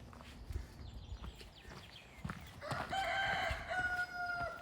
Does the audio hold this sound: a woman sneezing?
no